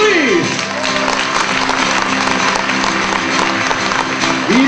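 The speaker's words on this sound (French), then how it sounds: "On applaudit." Loud applause from a live show audience, steady and dense throughout, with a voice briefly audible over it.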